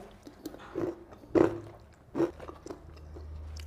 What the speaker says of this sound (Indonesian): Terus ini kerupuknya nanti renyah gitu dia.